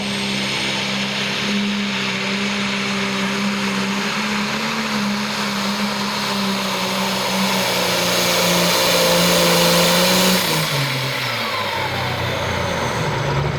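A diesel tractor engine revving hard at a tractor pull, a loud sustained roar held at very high RPM for several seconds before the pitch drops off near the end as the engine winds down.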